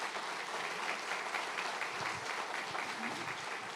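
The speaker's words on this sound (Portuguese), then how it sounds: "Aplauda o nosso soldado aqui, irmãos" A church congregation applauds a soldier with steady, continuous clapping across the room, even in level and moderately loud, with a voice briefly audible beneath.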